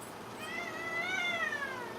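A cat meows in a long, drawn-out, rising and falling cry that is clearly audible over a soft background hiss. No one speaks.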